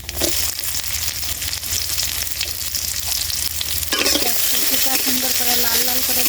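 Cumin seeds and chopped onion hit hot oil in a pan for a radish curry, a loud steady sizzle and crackle that flares up sharply partway through as more goes in, with stirring and bubbling.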